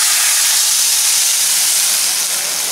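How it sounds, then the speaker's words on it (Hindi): Gram flour batter poured into a hot kadai over a low flame, giving a loud, continuous hiss that stays close and even for the whole moment. "ये घोल मैं इस कढ़ाई में डाल रही हूँ"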